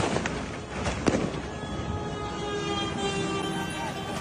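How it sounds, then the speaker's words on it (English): A few sharp, distant cracks like gunshots pop over a noisy background of engine rumble and faint voices, one louder report standing out near the middle. "Is the gunfire free, or is that extra?"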